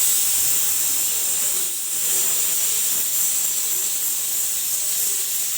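A pressure cooker hisses steam continuously while cooking, a steady, fairly loud rushing hiss with a brief dip partway through and no talking.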